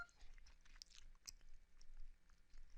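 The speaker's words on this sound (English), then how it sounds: "Oh, just chewing some gum." Someone chewing gum close to the mic, soft wet smacking and clicking chews repeating irregularly, faint, with no talking.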